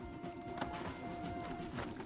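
Horse hooves clip-clop at a steady walk in Red Dead Redemption 2, soft repeated thuds under a constant low ambient bed, moderately quiet and continuous.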